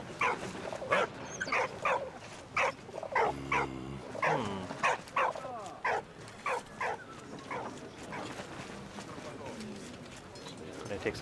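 Dog barking in the WWI video game Valiant Hearts: The Great War, a run of short, evenly spaced barks over about eleven seconds, fairly close, above a steady game backdrop with a brief rumbling effect near the middle.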